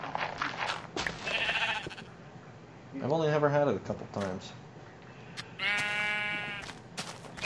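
Sheep in the video game Minecraft bleat in two separate wavering cries amid game sounds, while a person talks over parts of the scene.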